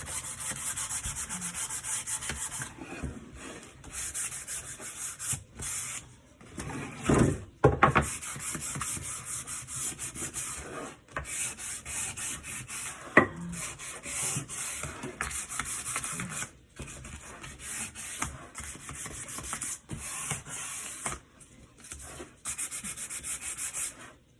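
Sandpaper rubs by hand along the corners and edges of a rustic double wooden tray, a steady close scratching in repeated strokes with brief pauses, no voices over it.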